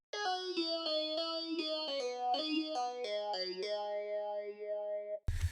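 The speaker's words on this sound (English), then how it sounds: "a cool combination between a normal clavichord patch and it sounds like it's mixed with a vocoder" A clavichord synth patch blended with a vocoder plays a solo melodic phrase of bright, buzzy, plucked notes with a chorus-like shimmer, ending on a held note before a brief thump.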